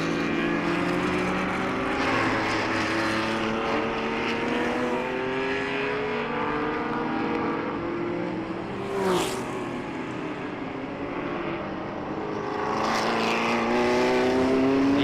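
Historic race cars, including a Ford GT40 and a low-drag Jaguar E-Type, racing at the Jarama circuit: several engines drone and rise in pitch together, with one car sweeping past midway and others approaching louder toward the end.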